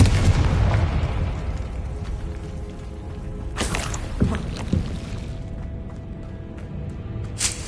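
Confringo, a fiery blasting spell in Hogwarts Legacy, erupts in a loud rumbling burst, followed by two or three sharper bangs and crackles over a low, churning game ambience.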